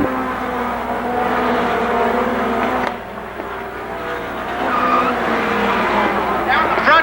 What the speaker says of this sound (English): Front stretch of spin and a collection by Tommy Johnson Jr. of Kevin Biesecker